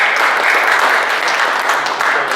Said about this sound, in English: I want to give a round of applause to all of you guys for just showing up